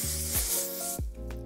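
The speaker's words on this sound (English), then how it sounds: "Now I'm grabbing a hairspray. This is a number 26 finishing spray from Kenra. And I'm spraying this" Kenra number 26 finishing hairspray misted from an aerosol can in two short close bursts of bright hiss, separated by a brief pause.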